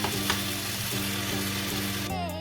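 Ground beef sizzling in a frying pan, a steady dense crackle with faint stirring, close and continuous with no talking.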